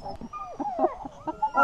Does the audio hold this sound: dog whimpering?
yes